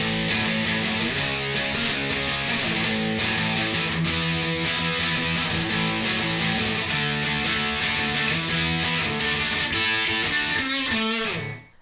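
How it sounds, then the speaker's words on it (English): Distorted electric guitar plays a driving rhythm part with a melodic fill, loud and continuous before cutting off abruptly at the end. "the lead guitar is going to be playing that same rhythm, except without this fill"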